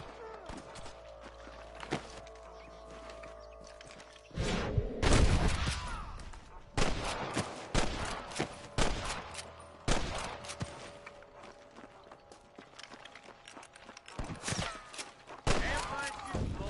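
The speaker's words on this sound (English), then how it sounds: "I can hear more gunshots." Gunfire in the Red Dead video game: scattered loud shots and bursts ring out over about a quarter minute, irregular and echoing, with some muffled voices in between.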